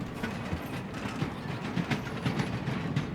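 Train rolling along in the survival game Voidtrain, a steady rumble with rhythmic clattering wheel beats and faint mechanical rattles, moderately loud with no talk over it.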